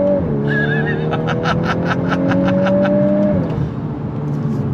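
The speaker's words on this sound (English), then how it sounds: "You are getting sound pumped in through the Harman Kardon sound system." Simulated engine sound for a VW Golf R, played through the Harman Kardon sound system, drones loudly inside the cabin as it rises in pitch, holds and then drops, with a fluttering buzz over the middle stretch.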